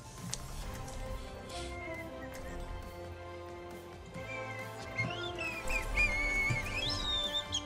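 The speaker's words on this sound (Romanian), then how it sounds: "Care fluierează pe care?" A person whistles in short, wavering tones that climb higher toward the end, moderately faint and mixed with background game sounds, with some talking around it.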